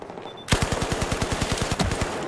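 Rapid automatic gunfire from a Battlefield 4 multiplayer match on the Pearl Market map, a steady close burst of about twenty shots that starts abruptly and runs for two seconds.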